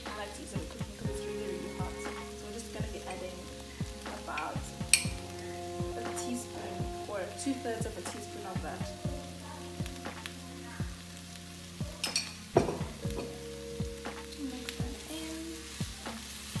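A homemade chili paste of blended garlic, chilies, salt and olive oil frying in a pan for spicy pinto beans, a steady close sizzle with clinks of a stirring utensil and faint kitchen tones beneath.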